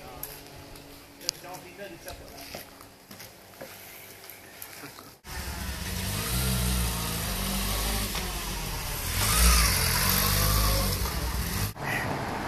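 An automatic car's engine hums at first, then swells into a louder, steady acceleration while driving. People talk throughout.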